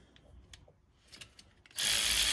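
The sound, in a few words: ratchet spinning a 12 mm socket on a quad axle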